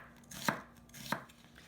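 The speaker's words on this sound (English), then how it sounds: "So let's start cutting onion first." Two crisp knife strokes through a quarter onion on a cutting board, thin slices, each a sharp chop, close but quiet, with a short gap between.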